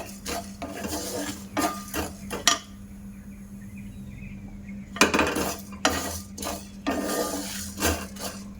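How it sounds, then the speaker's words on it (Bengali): Maggi masala spices dry roasting in a pan, heard as repeated bursts of scraping and clattering from a utensil stirring against the pan, with short quiet pauses between rounds, close and fairly loud. "যেন পুড়ে না যায় এমনভাবে ভাজাটা করবো"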